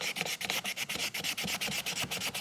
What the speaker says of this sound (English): we're gonna go ahead and soak our lamp and then soak our sandpaper, and we're just gonna start sanding.